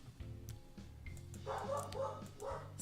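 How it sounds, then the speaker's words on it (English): A dog barks a few times at close range indoors, with low, quiet woofs followed by sharper, higher yips toward the end, and no talking over it. "Sorry about the dog barking"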